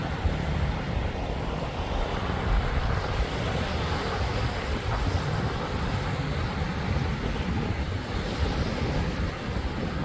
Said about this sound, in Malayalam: നല്ല നല്ല കാറ്റാട്ടോ.